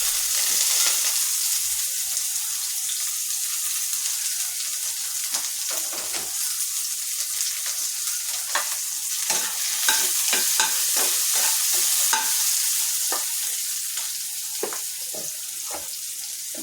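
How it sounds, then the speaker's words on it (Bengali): Sliced onions fry in white oil in a pan until crisp for biryani, giving a steady hiss of sizzling with repeated scraping stirs of a spatula, close and fairly loud, with no talking. "এভাবে আমি পেঁয়াজগুলো মচমচে করে ভেজে নেব।"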